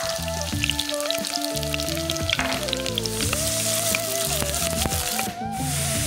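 Onion and green chili fry in a pan with a constant, close, crackling sizzle, while melodic background music plays over it the whole time.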